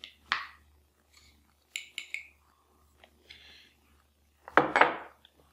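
A spoon stirs water, vinegar, sugar and salt together in a glass, making scattered light clinks and scrapes with quiet gaps between them and a louder clattering burst near the end.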